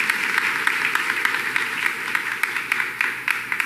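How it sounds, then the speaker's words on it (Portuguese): Congregation applauding at a church celebration of Saint Joseph's feast day, a steady wash of many hands clapping at moderate distance with scattered sharper claps standing out near the end. "Merece uma salva de palmas, né?"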